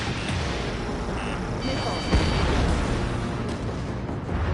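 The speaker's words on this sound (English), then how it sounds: "Missile incoming! H2, missile launch." A missile launch in a combat flight game: a dense, loud roaring whoosh that swells with a sharp thump about midway, backed by steady engine rumble, with a voice speaking over it.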